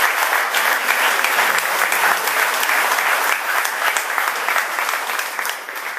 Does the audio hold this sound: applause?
yes